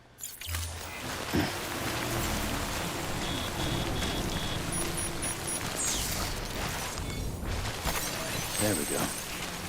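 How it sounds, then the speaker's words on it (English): Steady rain falls in the video game Death Stranding, a dense continuous hiss lasting the whole stretch, with occasional game effects and tonal chimes layered over it. "Damn rain won't quit."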